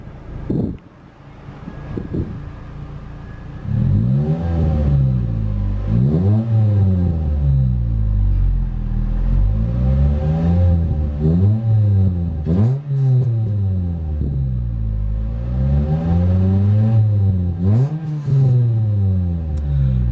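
Engine of a 2005 Ford Fiesta ST with a stainless steel exhaust, revved repeatedly in steady rising-and-falling sweeps after a couple of short blips, loud and close, with no talking.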